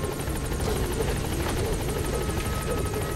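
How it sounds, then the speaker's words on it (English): A helicopter in the video game Metal Gear Solid V, its rotor chopping in a fast steady throb close by, loud and continuous with no speech over it. "I want to get in the chopper."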